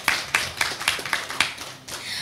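Audience clapping for the speaker at a morning Islamic study session about nature and God's greatness: a short, fairly even run of crisp handclaps, about four per second, close and moderately loud, fading off at the end.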